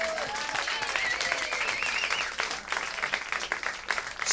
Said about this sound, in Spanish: ¿Alguien puede aplaudir al Señor?